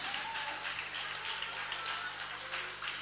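An audience applauds a sports school ensemble after a polonaise dance performance, continuous clapping with a faint low hum beneath it.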